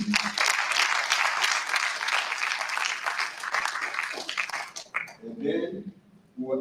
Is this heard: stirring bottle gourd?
no